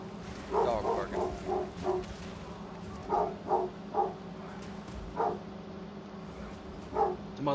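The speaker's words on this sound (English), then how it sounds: "Your dog's barking." A dog barks in short repeated bursts, some in quick pairs, with pauses between them. The barks sound muffled and somewhat distant behind a steady background hum.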